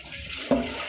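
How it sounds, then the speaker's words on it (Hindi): Water runs steadily from a tap while dishes are washed at home, a close, continuous splashing hiss with a brief louder gush near the middle; no talking. "ना ना ना अभी तो बर्तन ही धो रहे हैं।"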